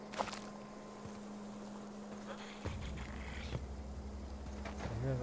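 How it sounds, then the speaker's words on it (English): Small alien creatures purr in The Outer Worlds, a low rumbling purr growing steadier and louder midway over a constant humming game ambience, with scattered clicks and a brief squeak near the end. "I hear those little things purring over here somewhere."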